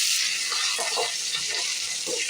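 Steady hiss of onions, green chilies and curry leaves frying in hot oil, a bright continuous sizzle with faint stirring scrapes, fairly close and without talk.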